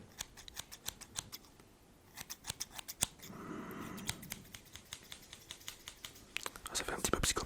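Scissors snip through paper close up in a quiet, whispery setting, with a series of crisp sharp cuts, a soft rustling pause midway, then a quicker run of snips at the end.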